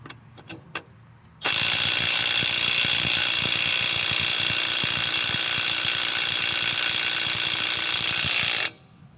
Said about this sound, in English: Let the Milwaukee put it on there full strength